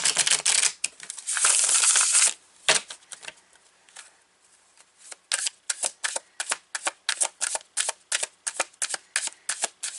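Tarot cards shuffled by hand, a dense riffling rush at first, then a lull and a long run of quick, evenly spaced soft slaps as the deck is cut and tapped, close and alone.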